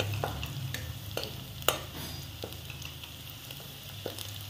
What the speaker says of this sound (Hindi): ये देखिए प्याज लहसन हरी मिर्च सब पक गया है